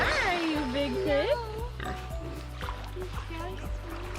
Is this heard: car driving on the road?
no